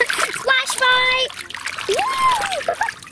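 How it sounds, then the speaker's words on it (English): Toddlers splashing in a cool backyard pool during a playdate, bursts of water splatter mixed with high excited children's voices and squeals, loud and close. "Splash fight!"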